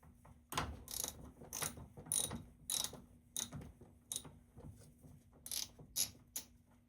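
A 10mm socket ratchet loosens the battery cable nut on a 2016 Toyota Corolla, giving irregular bursts of close, crisp pawl clicking with short pauses between strokes and a faint steady hum underneath.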